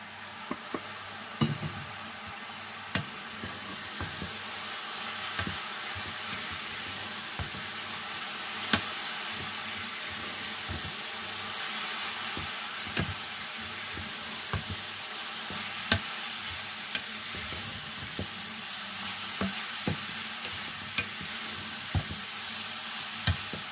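Grated coconut is added to poha (flattened rice) in a pan and stirred, giving a steady soft sizzle with scraping spatula strokes and occasional light clinks against the pan, with no voices.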